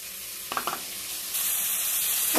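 Spices hitting hot oil in a pan while cooking a paneer dish, a bright, steady sizzle that jumps louder partway through, with a few short stirring scrapes before and a clatter at the end.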